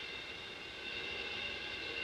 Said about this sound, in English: As this train approaches, let's see how close it comes before we hear it.